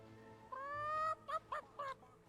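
Chickens in the video game Fable 3 give a short rising squawk followed by three quick clucks, clear and close in a quiet setting.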